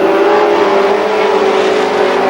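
Stock cars roar past on a speedway in a Firecracker Championship race, an Oldsmobile in the lead; a dense, steady engine drone stays loud throughout with no talk.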